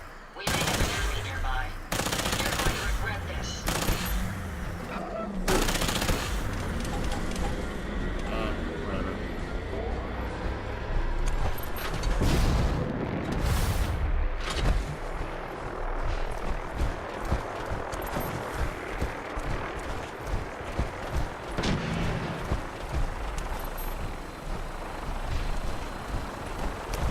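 Dense bursts of automatic gunfire and booming explosions in a modded Fallout 4 firefight, loud and near, sometimes in rapid fusillades, with voices talking over the combat at times.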